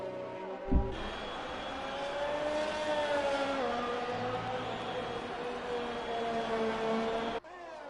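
Onboard a Mercedes Formula 1 car in F1 2020 at the Hungary circuit approaching turn one, a loud sustained high-pitched engine whine rising and shifting through the revs, with a brief low thump at the start before it cuts off.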